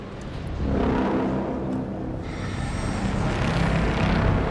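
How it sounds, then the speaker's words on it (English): In the video game Frostpunk 2, a generator starts up: a steady low drone rises and swells into a broad roaring hum, settling into a constant mechanical rumble. "I love that sound so much when you're turning on a generator for the first time."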